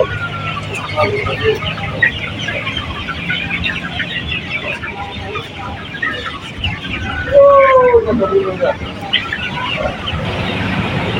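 Sonali chickens cluck and chatter throughout a poultry farm, a dense, busy flock close by with occasional louder calls, while people talk over them.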